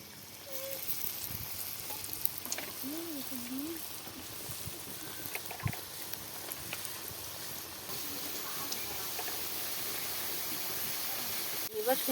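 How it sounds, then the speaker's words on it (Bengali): French fries deep-frying in plenty of hot oil in a pan, giving a steady, broad crackling sizzle that carries on throughout with faint clinks mixed in. "ফ্রেঞ্চ ফ্রাইগুলো আমি লাল লাল করে ভেজে নিয়েছি, দেখুন একদম মরমর করছে, আওয়াজ হচ্ছে কড়াতে কীরকম"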